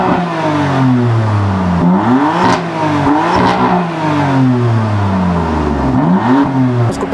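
A BMW M4 with its stock exhaust revs repeatedly, heard from behind the car, loud rising and falling engine sweeps with several separate blips and a brief lull between bursts.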